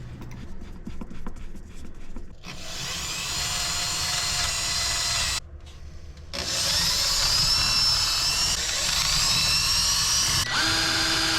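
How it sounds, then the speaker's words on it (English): A power drill drives screws to attach rails to the underside of a crosscut sled for a Dewalt 7485 table saw, with several long whirring runs separated by short pauses and a shop hum in between. "After it was dried, I screwed in the rails to the bottom of the sled."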